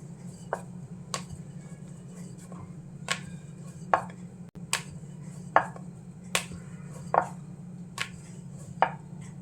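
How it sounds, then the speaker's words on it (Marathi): A samosa dough ball is rolled out with a rolling pin, giving sharp, evenly spaced knocks about every half second to second over a steady low hum. No one talks. "हा गोळा आपण लाटून घेऊया"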